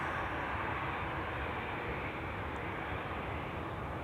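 Business jet taking off from runway 04 at Amsterdam Schiphol Airport, a steady, broad engine roar heard from a distance, holding constant and alone.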